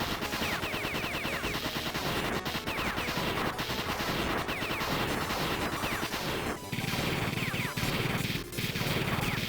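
Rapid automatic gunfire from a drum-magazine gun in a retro arcade video game, dense and loud, continuous bursts with crashing impacts and brief pauses, no talk over it.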